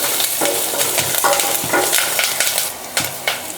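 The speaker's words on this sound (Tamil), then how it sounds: "கருவேப்பிலை ஒரு 2 கிள்ளி போட்டுக்கலாங்க. போட்டு வதக்கி விடலாங்க." Curry leaves and garlic sautéing in a hot pan for a home lunch, loud crackling sizzle with repeated stirring scrapes and spatula clinks, no voices.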